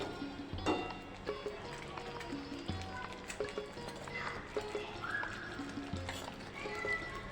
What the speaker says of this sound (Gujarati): ગ્રેવીને બરાબર તેલમાં સાતળી લઈશું